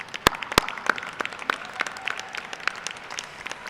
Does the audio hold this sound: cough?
no